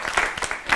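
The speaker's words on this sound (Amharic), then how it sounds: "አጨብጭቡላችሁ።" A short burst of clapping from a small group on a children's TV quiz show, greeting a student's answer; brief, steady applause without speech.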